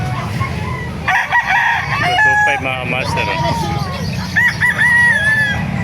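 A White Kelso rooster crows loudly and nearby, with a long drawn-out call and some clucking, while someone talks over it.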